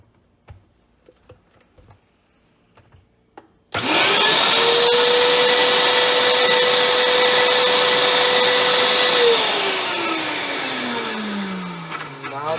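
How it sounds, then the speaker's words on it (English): An electric blender chops chili peppers and ginger, starting abruptly after a few quiet ticks, running loud and steady with a high motor whine, then winding down as the motor slows near the end. "What the blender is going to do is chop up the ingredients and mix them."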